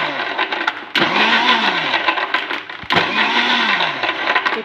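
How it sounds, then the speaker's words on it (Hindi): A blender whirs loudly and close while blending a banana milkshake with milk and ice, its motor cutting out briefly and spinning back up twice in a row. "अब हम इसे फिर से ब्लेंड करेंगे।"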